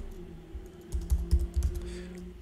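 Quick bursts of computer keyboard typing, several clustered keystrokes close and fairly clear over a low steady hum while entering a command in a Python Scrapy shell.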